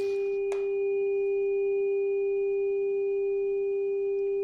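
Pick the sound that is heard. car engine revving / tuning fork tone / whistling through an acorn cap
tuning fork tone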